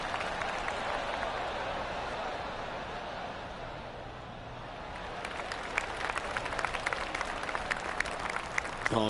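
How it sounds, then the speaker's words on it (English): Polite golf clap applause from a gallery after an approach shot in the PGA Tour 2K25 video game, a soft steady patter of clapping that swells slightly near the end, heard alongside commentary. "Oh, golf clap."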